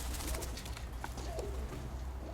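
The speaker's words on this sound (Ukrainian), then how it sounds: "Повсюди голуби. Сюди, сюди голуби." Low, soft cooing of pigeons repeats over a steady background hum, with faint chirps and rustles nearby.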